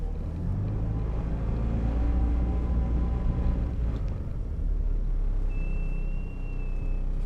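Interior engine drone and road rumble of a 1962 Morris Minor being driven, steady and fairly loud, with a thin high whine appearing near the end; no talking.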